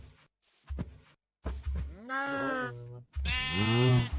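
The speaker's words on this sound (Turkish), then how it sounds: "Çıkın da koyun kırpayım." Sheep bleating in the Minecraft video game, two drawn-out harmonic bleats in the second half, moderately loud, with a person's voice talking around them.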